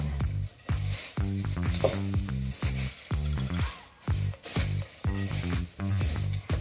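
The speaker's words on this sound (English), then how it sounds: "Go ahead and stir with a flexible spatula until everything combines and everything seems to be pretty equally distributed." A flexible spatula stirs and squishes a thick breakfast bar mixture in a bowl, repeated close, wet slapping strokes in a steady rhythm with brief pauses between them, no voices.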